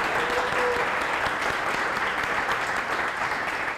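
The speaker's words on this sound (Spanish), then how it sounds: "Venga, un aplauso." Conference audience at a developer event applauds, a dense steady clapping from many hands, loud and continuous throughout without speech.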